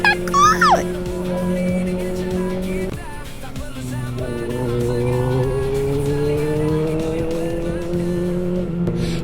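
Motorcycles speed past lorries and cars in a traffic jam, giving a close, loud, sustained engine drone that dips and then climbs in pitch, with a brief sharp squeal at the start.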